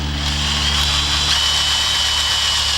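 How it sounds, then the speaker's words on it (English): A drill bores a tap hole into a maple tree at a slight downward slope, a steady close whirring motor hum with a faint high whine over a low engine-like drone. "You drill."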